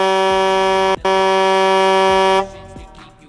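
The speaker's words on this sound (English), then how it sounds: "We're going to shoot out one big loud honk" A loud, blaring air horn sounds in one long sustained blast with a brief break, then cuts off abruptly.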